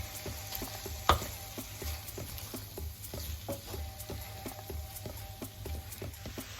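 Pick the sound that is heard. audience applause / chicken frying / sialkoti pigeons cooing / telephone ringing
chicken frying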